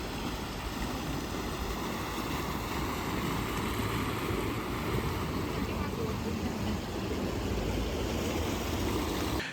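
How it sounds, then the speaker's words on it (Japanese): A sightseeing boat cruises along a canal in Nanjing, its engine a constant broad drone mixed with the rushing wash of water, steady and unbroken from start to finish. "こんな感じで遊覧船みたいなのが走ってますね"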